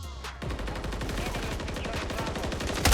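MTZ 556 rifle in Call of Duty MW3, firing a fast sustained automatic burst of sharp, evenly spaced shots, loud and close, after a brief pause at the start.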